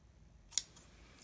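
Scissors trim the edge of a handmade paper Halloween card, with two crisp, close snips about two-thirds of a second apart over a quiet background.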